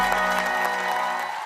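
A church congregation at a combined youth worship service claps in a brief, steady burst of applause that fades slightly by the end.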